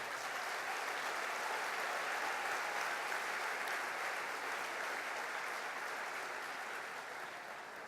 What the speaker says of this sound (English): I'd like to give all of our nominees a big round of applause before we begin the evening.